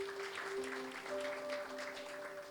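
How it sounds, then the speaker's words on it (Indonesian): A church congregation applauding during an Indonesian sermon, a soft, steady wash of clapping heard from a distance, with a faint sustained tone from instruments or a sound system running beneath it. "Tepuk tangan buat Tuhan."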